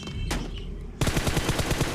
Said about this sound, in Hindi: यहाँ हमारे ऊपर फायरिंग होगी